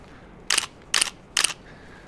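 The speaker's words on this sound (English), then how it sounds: "So yeah, shutter speed, and it sounds pretty cool. The reason why I've used this camera, this is an old one." An old camera's shutter fires three times in steady succession, each release a sharp, crisp mechanical snap heard up close against a quiet background.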